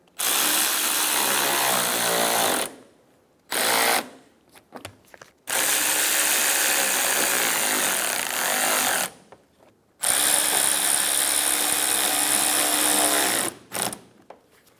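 A power tool drives the fender liner screws on a Chevrolet Sonic, four loud sustained whirring runs with short silent gaps between them, close and with no talk.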